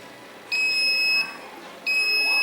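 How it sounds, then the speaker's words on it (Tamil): A multimeter sounds its continuity beep while its probes test components on a mobile phone circuit board, giving two loud sustained high electronic tones, each about three quarters of a second long, separated by a short gap. "பீப் ஃபுல்லாகவே அடிக்குது."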